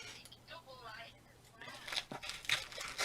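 Heavy layers of sellotape ripped off a taped-up cardboard box, with quiet speech first, then loud crinkling and tearing bursts close by toward the end.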